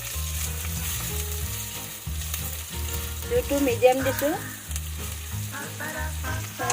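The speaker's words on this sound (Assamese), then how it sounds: "এইখিনি ৰঙাচুৱা হোৱালৈকে অলপমান ফ্ৰাই কৰি ল'ম।" Onions frying on medium heat in oil with dried chili and bay leaves, a steady close sizzle with stirring scrapes, while a voice speaks briefly over the cooking and soft music plays beneath.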